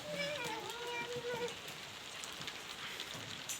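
Steady, faint rain patters down during an outdoor Sunday church service, a soft continuous hiss, with a brief murmur of voice near the start.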